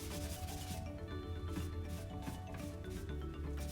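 Close, steady rubbing and scrubbing as a cleaner is worked over a DC315 thermal ignition barrier coating, the strokes coming in a repeated rhythm with no talking.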